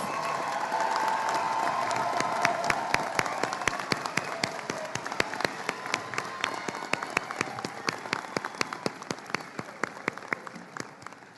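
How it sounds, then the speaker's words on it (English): An audience claps steadily for graduating Doctor of Chiropractic students at a university commencement ceremony, a dense, continuous ovation with sharp individual claps standing out near the front, with no voices over it. "Join me in a round of applause for all of our Dr. Chiropractic graduates."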